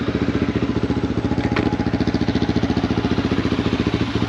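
A single-cylinder 250cc Aveta VZR250 motorcycle engine idles steadily after starting with a rapid, even putter and a brief click partway through, close by with no talk.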